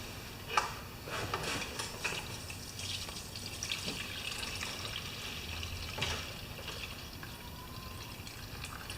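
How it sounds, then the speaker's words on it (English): Gasoline trickles and pours steadily out of an older Husqvarna lawnmower into a container, a faint continuous liquid flow with occasional small splashes and no talking. "I'm going to try and pour most of the gas out of this lawnmower without putting it on the floor"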